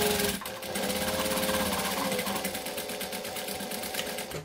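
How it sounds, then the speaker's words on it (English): A sewing machine runs steadily through knit fabric, then stitches in reverse to lock the seam, a close continuous mechanical whir with a fast, even stitch rhythm and a brief change in pace. "And then just sew up. And then backstitch up there."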